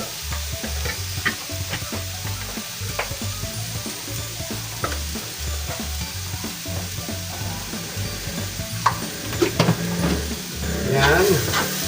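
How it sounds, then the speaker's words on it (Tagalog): Ground pork sisig mixed with mayonnaise is stirred in a frying pan, giving a steady low sizzle under repeated scraping strokes of a utensil in a loose rhythm, with a brief clatter near the end. "halo-haloin po natin hanggang mag-combine yung ating mga ingredients"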